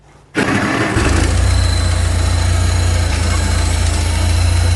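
A Farmall Cub tractor engine fires up on the starter without choke on a mild day, catching abruptly and settling at once into a loud, steady, close idle rumble.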